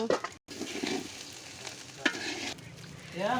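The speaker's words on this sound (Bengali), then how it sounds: "এখন ভালোভাবে আবার সব কিছু মিক্স করে নেব" Food being stirred and mixed in a pot over a village clay stove, with white pepper powder just added: steady scraping and sizzling for a few seconds, close and moderately loud, with a brief gap and a voice near the end.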